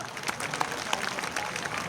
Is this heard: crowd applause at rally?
yes